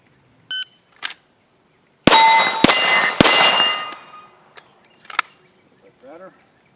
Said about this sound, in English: So let's get to shooting.